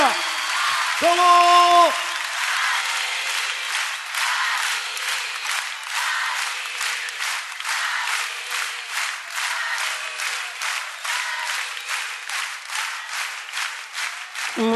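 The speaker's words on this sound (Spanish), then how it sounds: "¡Los aplausos!" A live concert audience claps in a steady broadband patter that fills most of the stretch, following a short sung or spoken voice at the start, with the clapping holding at moderate loudness.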